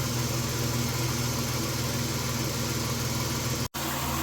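A 1990 Dodge Grand Caravan engine idles steadily after a Seafoam treatment, a loud and even mid-low hum with a regular pulsing beat, close to the microphone, with no talk.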